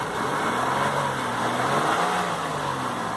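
A 2001 Buick LeSabre Limited engine runs steadily at a smooth, even hum, close and moderately loud with no talking.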